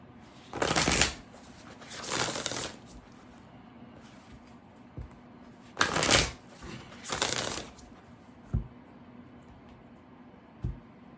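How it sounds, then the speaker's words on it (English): An Earth and Bone Oracle card deck is shuffled in several short, crisp riffling bursts, near and fairly quiet, with soft taps and handling noises between them and no talking. "I'm going to pull an oracle card from the Earth and Bone Oracle"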